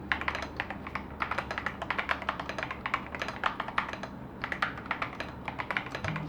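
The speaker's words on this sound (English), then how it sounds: "Now I know what you've been waiting for, the typing experience." Rapid typing on an Epomaker RT100 plastic mechanical keyboard, a busy stream of clicky, slightly hollow keystrokes heard close up, with no talking.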